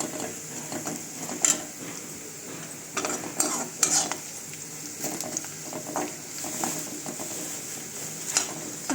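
Onions frying in a pan for a chicken fry, a steady background sizzle broken by repeated scraping and stirring strokes, close and fairly quiet, with no voices.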